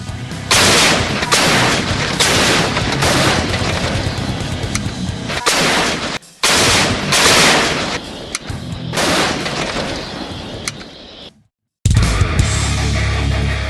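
A 105 mm M2A2 howitzer artillery gun fires in a military setting, giving repeated loud booming blasts with rumbling echoes over about thirteen seconds and brief gaps between shots.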